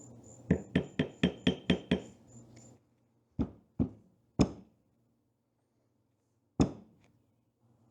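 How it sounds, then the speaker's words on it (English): A tractor valve chest from a David Brown 990 Selectamatic hydraulic system is beaten on a table. Seven rapid metallic knocks come first, then several single sharp bangs spaced out, with quiet gaps between them. "I turned the valve chest over and beat it on the"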